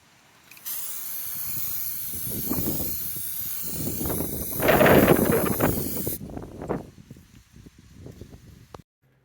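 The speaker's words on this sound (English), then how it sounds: "We're going to give it a couple of coats of gloss lacquer, which will protect it from the weather and also give it a nice shine" Gloss lacquer sprayed from a can onto a Kawasaki ZZR1400 fuel cap gives a steady close hiss lasting several seconds, swelling in the middle before cutting off, followed by faint handling rustles.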